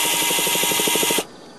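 A power drill whirs loudly and close, spinning over a Thunder Tiger nitro RC motorbike engine with a rapid pulsing rhythm for about a second before cutting off.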